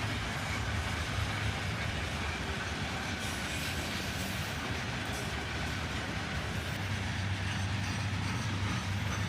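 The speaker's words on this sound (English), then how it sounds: "the conductor of the local train rides the shove as the southbound passes on the other track" A southbound freight train rolls past on the adjacent track at a meet with a local train, a steady, loud, continuous rumble of railcars with clickety-clack wheel beats and faint squeals throughout, no voices.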